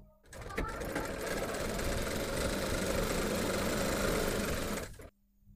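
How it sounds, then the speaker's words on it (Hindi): An umbrella sewing machine runs steadily for about five seconds, a loud, continuous mechanical whir of stitching that starts and stops abruptly with no talk over it. "मैं आपको चलाकर दिखाऊंगी मशीन कि हमारी मशीन सही हुई या नहीं हुई।"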